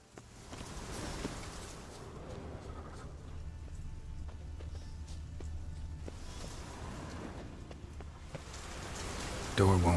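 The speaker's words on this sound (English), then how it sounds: "Looks like rain." Steady rainfall in The Witcher 3, a soft, even hiss of drops on surfaces that carries on throughout at low volume, with faint background murmurs and a brief louder thud at the very end.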